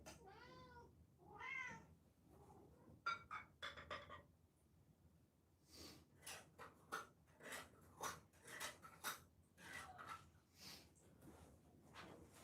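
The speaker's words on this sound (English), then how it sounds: "Just feeding my cats." Several cats meowing while being fed, a few drawn-out hungry meows at the start followed by quieter rustling and clattering of food and bowls, faint and close.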